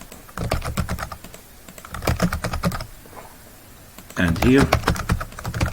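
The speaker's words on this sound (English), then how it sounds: "Let's type anything here" Typing on a computer keyboard comes in quick bursts of clicking keys, alternating with a person speaking in a quiet indoor setting.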